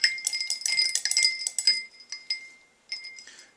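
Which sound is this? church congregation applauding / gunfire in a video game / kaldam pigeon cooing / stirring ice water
stirring ice water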